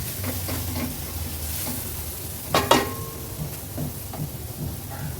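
Onion and tomato mixture for chicken pulao stirred in a pan: soft frying sizzle with a few scraping and clinking strokes of a spoon against the pot, one louder clatter midway.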